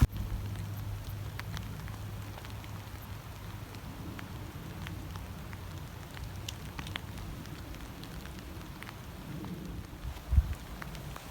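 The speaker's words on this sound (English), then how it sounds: "we're here standing in the rain" Steady rain falling at a hammock campsite beneath a rock face in Red River Gorge, a soft continuous patter with scattered drops and one brief louder knock near the end, no talking.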